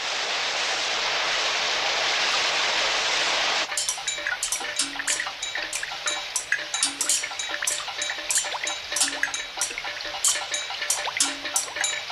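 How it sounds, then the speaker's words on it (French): Rain pours in an animated Tom Sawyer episode, a dense steady hiss for about four seconds that suddenly gives way to sparse, distinct drips and plinks with soft low tones beneath. "Mais combien de temps est-ce qu'il va encore pleuvoir?"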